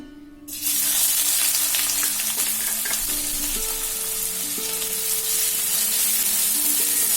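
Finely chopped onion fries in hot oil in a kadai, a loud, dense sizzle that bursts in after a short quiet start and holds steady throughout, with faint stirring and no talking.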